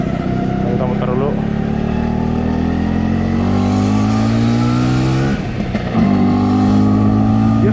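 A 1976 Vespa Super scooter engine revs while being ridden, its pitch climbing and dropping through the gears with a custom exhaust; loud and close, with a brief dip for a shift before the revs pick up again.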